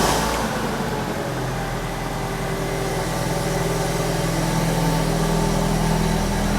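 BMW E46 318i running just after startup, fitted with a modified exhaust and new air filter: a steady, loud, close engine drone with a low rumble that holds for the whole stretch, with no speech.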